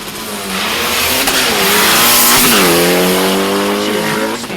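A Volkswagen drag racing car launches down the strip at Mason Dixon Dragway during the VW Nationals, its engine roaring loud and close and climbing in pitch through the gears with a brief tire squeal as it pulls away.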